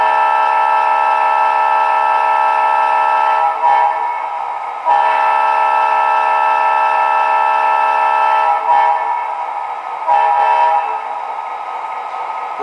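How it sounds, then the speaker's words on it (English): MTH Premier CSX SD40-2 model locomotive, a steady diesel engine drone with a multi-tone horn sounding in several short blasts over it, loud and close without talk. "I really like the sound of this engine. The horn is good too"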